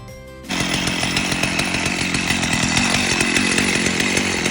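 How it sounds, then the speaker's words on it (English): A chainsaw fires up after a short quiet moment and then runs continuously at a loud, steady, buzzing pitch, close by. "So we're moving on to start the chainsaw mode."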